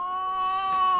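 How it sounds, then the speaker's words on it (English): A cat meows once in a long, steady, tonal call that rises slightly toward the end, clear and fairly close with no talking. "Sorry, that was a cat."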